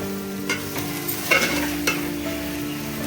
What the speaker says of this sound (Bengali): এবার দেখো, ভালো করে এবার এটাকে নাড়াচাড়া করছি।